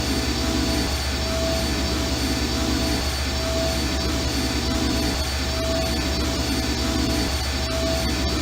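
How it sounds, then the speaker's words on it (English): Machinery engines humming in the video game I Have No Mouth And I Must Scream, a constant loud drone with steady tonal whine and a faint pulsing rhythm roughly every second, with no voices. "These poor creatures' brains are feeding electricity to the engines."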